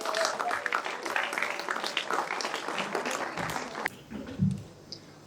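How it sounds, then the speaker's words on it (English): An audience applauds for a contestant at a talk event, a dense wash of clapping that carries on for several seconds and then fades out. "And now with a huge round of applause, my dear friends, let us call upon contestant number 69."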